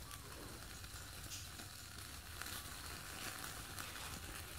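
Meat grilling over heat gives a steady, dense sizzle with crackling hiss, fairly close and even throughout, with no voices.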